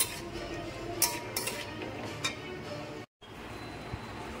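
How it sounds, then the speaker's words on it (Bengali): A spoon clinks and scrapes in a pot as pineapple is mixed with salt for chutney, a few scattered close knocks over a soft rustling bed, broken by a brief dropout. "নুন দিয়ে আমি এবার মিক্স করে নিচ্ছি আনারসের সাথে।"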